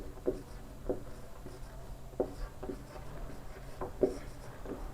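Pen or marker writing on paper, soft scratchy strokes and small taps coming in short irregular bursts, quiet and close, with no speech.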